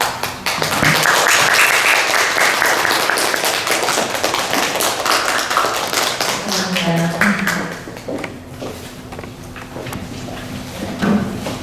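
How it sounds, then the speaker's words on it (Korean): A lecture-hall audience at a Korean education centre event gives dense, sustained applause to welcome a singer. The clapping is loud at first and thins to scattered claps, followed by a voice speaking. "가수님 나오실 때 여러분들이 뜨거운 박수로 환영해 주시면 감사하겠습니다"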